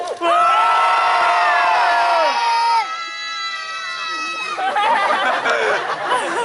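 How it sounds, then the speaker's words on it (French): A comic medieval show audience, children prominent, roars a long, loud, sustained collective shout that lasts several seconds before trailing into scattered cheers and chatter. "je veux vous entendre pousser un hurlement qu'on entendra jusqu'à Annemasse"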